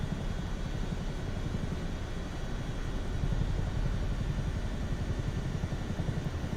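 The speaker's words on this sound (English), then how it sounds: "it's a Chinook" A Chinook helicopter in flight: a loud, continuous rotor and engine drone with a low, fluttering throb, steady and close, with no speech over it.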